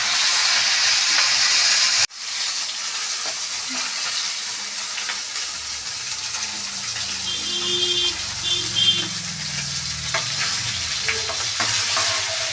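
Silver carp fish fries in a pan with a loud, continuous sizzle and hiss; after a sharp cut it resumes with steady frying, brief stirring and occasional crackles, and nobody speaks.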